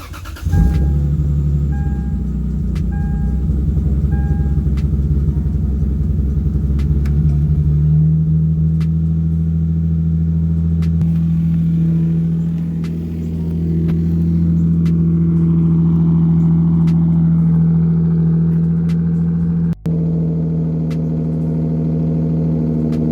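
A Lexus IS300 that sat overnight cold-starts, its engine catching and then settling into a steady, loud, close idle with a deep low hum that dips briefly mid-way, with no talking.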